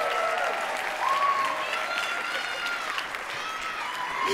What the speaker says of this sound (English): Another round of applause for Craig and Betty.